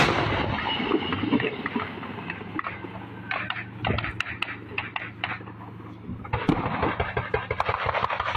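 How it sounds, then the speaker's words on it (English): Gunfire from an ongoing street firefight in the Ukraine war, with sharp shots and bursts cracking intermittently over a constant rumbling background, some reports distant and others closer. "Firefight still continuing down the road."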